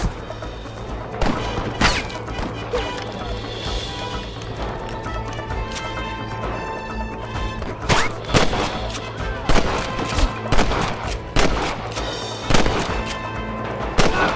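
Repeated gunfire in the Red Dead Redemption video game, a western shootout with sharp shots bursting irregularly over a steady background, some close and loud, others in quick clusters.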